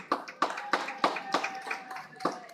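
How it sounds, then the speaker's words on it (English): Rhythmic clapping at a commemorative lecture: about seven distinct, sharp hand claps at a roughly steady beat, sounding like a small group rather than a full roar of applause. "Another round of applause."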